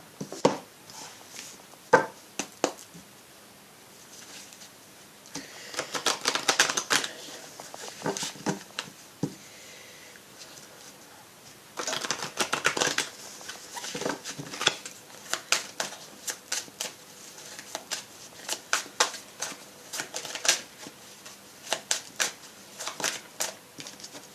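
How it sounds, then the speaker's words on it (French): Tarot and oracle cards being shuffled by hand, close and crisp, in irregular bursts of riffling and sliding with short pauses between them. "Et moi j'ai mélangé mes cartes"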